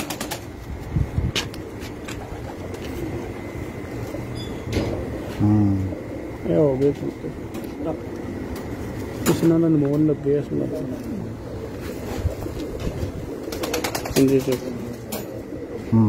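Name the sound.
pigeons cooing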